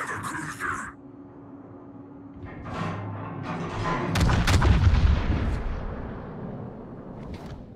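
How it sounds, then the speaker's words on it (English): Naval artillery fire on an enemy warship in a battleship video game, deep booming salvos with a heavy roaring blast in the middle that rolls away into a long rumble, while a voice speaks at the start. "Concentrate fire on the enemy warship."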